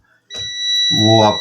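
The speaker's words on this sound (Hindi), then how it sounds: "बीप सुनाई दे रही होगी।" An electronic beep from a Krom Schroder burner control testing kit starts abruptly and holds as a steady two-tone buzz, joined shortly after by someone speaking over it.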